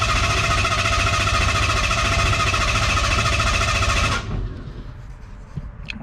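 A Ford Ranger engine being started after an oil change and ignition repair runs loud and steady for about four seconds, then cuts off abruptly, leaving a quiet background.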